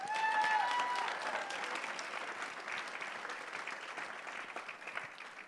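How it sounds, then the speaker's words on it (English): A quick round of audience applause at a tech startup showcase honoring female founders: dense, even clapping from a crowd, with a brief high whistle near the start, slowly tapering in loudness. "So let's give a quick round of applause for that."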